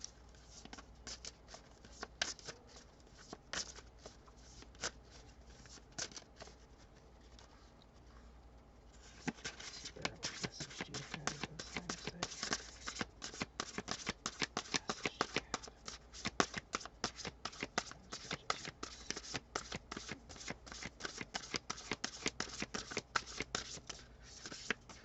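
Oracle cards being shuffled by hand at close range: soft slides and riffles at first, then from about nine seconds on, a dense run of quick crisp flicks and taps that keeps going steadily to the end.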